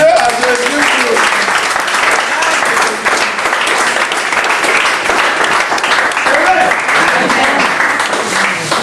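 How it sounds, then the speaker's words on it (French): A congregation applauding Jesus at a church gathering: dense, continuous clapping that fills the whole stretch, steady and loud, with voices mixed in throughout. "Il faut applaudir à Jésus."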